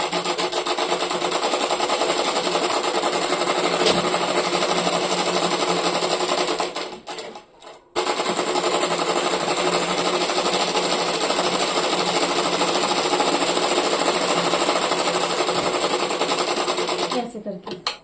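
A sewing machine runs steadily, stitching along the edge of a blouse lining, with a brief pause midway before the whirring motor resumes at the same even pace.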